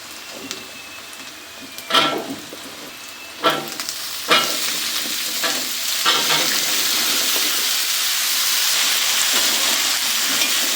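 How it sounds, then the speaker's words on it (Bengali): Chopped sweet pumpkin and carrot drop into a pan with a few scraping stirs and clanks, then a loud, even sizzle builds and holds steadily close by, alone without speech. "দিয়ে দিব কেটে রাখা কুমড়া গাজর"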